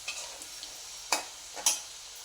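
Garlic fries in oil in a pan with a soft, faint sizzle, broken by a few sharp stirring clinks and scrapes.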